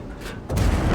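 A tank cannon fires in a tank video game: a single heavy boom lands halfway through and rumbles on loudly to the end, following a quieter lead-in.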